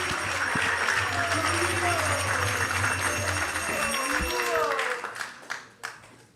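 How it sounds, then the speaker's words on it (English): Audience applause at a Hare Krishna initiation ceremony, a dense wash of clapping that holds steady for about five seconds, then thins into a few scattered claps and fades. "You can clap."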